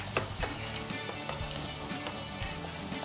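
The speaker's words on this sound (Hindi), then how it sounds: "बस लहसुन को हमें हल्का सा गोल्डन करना है" Garlic for a tadka sizzles in hot oil in a pan for haryaali dal, a faint, steady crackling hiss with scattered pops and no voices.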